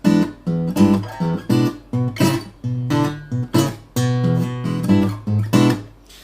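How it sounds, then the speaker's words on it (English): An acoustic guitar is picked fingerstyle, with a thumbed walking bass line under plucked treble notes in a steady, bluesy rhythm, played alone and close. "So in fingerstyle it sounds like this."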